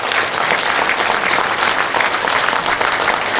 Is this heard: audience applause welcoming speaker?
yes